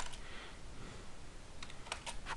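Typing on a computer keyboard while entering form details, with a steady run of soft key clicks and a few sharper taps near the end, fairly close and alone.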